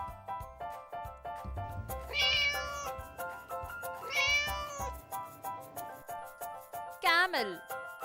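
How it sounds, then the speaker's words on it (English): A cat gives several distinct meows, the last rising and wavering, set against a bouncy, plinking music backing. "Cat,"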